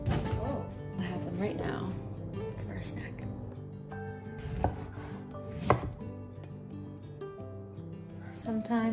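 Vegetables being chopped on a cutting board for weekly prep, a run of quick, irregular knife thuds close by with a couple of sharper knocks, a faint voice now and then underneath.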